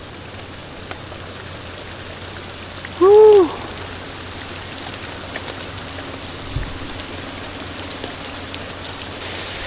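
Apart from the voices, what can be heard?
heavy rain falling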